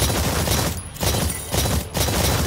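Sustained automatic gunfire in the video game Exoprimal during training target practice, loud and close, a dense rattling stream of shots with two brief pauses.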